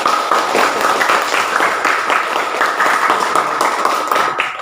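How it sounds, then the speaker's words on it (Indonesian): Students clap together in a classroom during a lesson on Ramadan fasting, a fairly loud, continuous patter of many hands that holds steady from start to finish. "kalau begitu tepuk tangan untuk kita semuanya"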